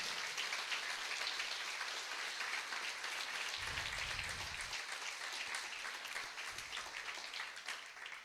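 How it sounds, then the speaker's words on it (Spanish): Steady applause from a church congregation during a Spanish-language sermon, a dense even patter held at constant level throughout, with brief low thuds in the middle. "Dele otro aplauso al Señor"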